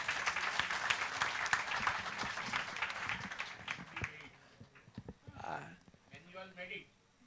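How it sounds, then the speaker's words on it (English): Audience applause at the valedictory function of a food science and technology conference, dense clapping for about four seconds before tapering off, followed by someone speaking and brief scattered claps. "A big round of applause to Dr. Ashish."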